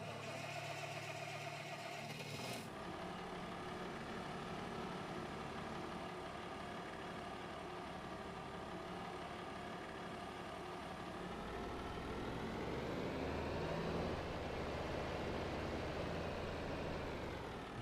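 A 90-horsepower tractor in a farming video game set in RiverBend Springs runs with a steady mid-pitched drone. After a short shift early on, it swells louder and rougher near the end, with no talking.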